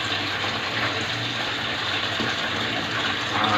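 Strong, steady rush of water gushing from a household tap at high pressure, continuous and close, with no voices.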